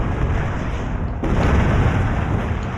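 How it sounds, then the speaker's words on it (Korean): Cannon fire in the video game Shogun Total War 2, a deep booming blast that cuts in partway through over a continuous rumbling battle background, loud and close, with no talk. "뭔 포소리야 누가 포 갖고 왔니?"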